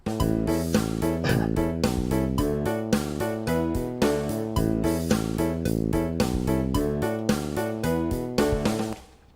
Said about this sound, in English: in disco, they have these patterns which are basically just alternating between a low note and a high note repeatedly